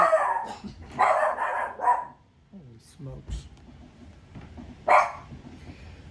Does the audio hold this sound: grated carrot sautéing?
no